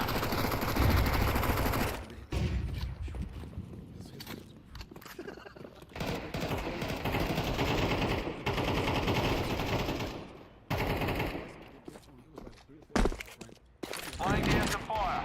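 Counter-Strike 2 gunfire rattles in loud automatic bursts that break off and start again, with a few brief pauses and quieter gaps between volleys, set against game sound.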